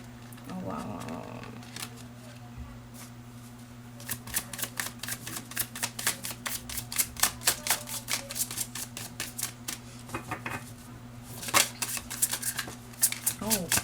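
Tarot cards are shuffled in rapid papery riffles and flutters, near and crisp, running in bursts across most of the span while a person speaks now and then over a low steady hum.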